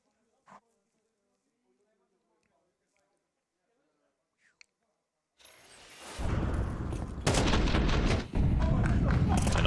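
Sniper rifle fire in a Counter-Strike match: loud booming shots and a rumbling barrage burst in after several seconds of near silence broken by a few faint clicks.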